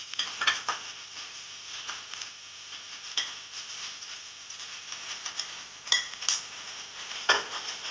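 Eggs slipped one by one into hot oil in a pan for egg do-pyaza, giving a steady soft sizzle with scattered clinks of a utensil against the pan and a few sharper spatters, close and fairly quiet, with no talking.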